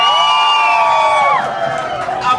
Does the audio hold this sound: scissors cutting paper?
no